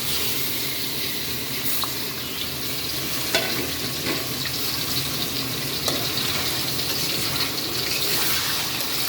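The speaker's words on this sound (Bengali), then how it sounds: "মুরগিটা এখন ভাজা ভাজা হবে" Chicken breast pieces fry in hot oil, a steady soft sizzle with occasional small crackles and clicks, continuous and fairly quiet with no talking.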